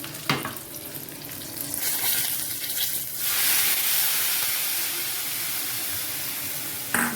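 Tempering of green chilies, curry leaves, turmeric and asafoetida in hot oil erupts into a loud, steady sizzle after a few seconds of quieter stirring, then hisses on without talk.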